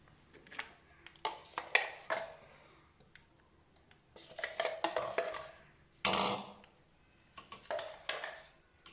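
A spoon scrapes and clinks against metal vessels as ground masala paste for brinjal kuzhambu is moved into another pot, coming in close, irregular bursts of clatter with quiet pauses between them.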